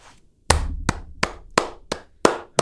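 Hand clapping: seven sharp, distinct claps at an uneven, slightly slowing pace, close and fairly dry, with brief quiet gaps between each one.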